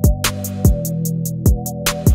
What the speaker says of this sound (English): the identical hi-hat, which sounds like this. And it plays a basic two-step loop